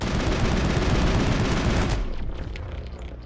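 Rockets and heavy weapons fire in the Mass Effect video game while defending the heart of a colony, a loud continuous barrage of rapid blasts that cuts off sharply, leaving a fading rumble and scattered faint hits.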